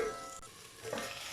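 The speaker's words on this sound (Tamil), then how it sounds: "இது எண்ணெயிலே கொஞ்சம் வதங்கட்டும்." Green beans sautéing in oil in a pan for beans poriyal, a soft, steady sizzle with a faint stir partway through, quiet and close.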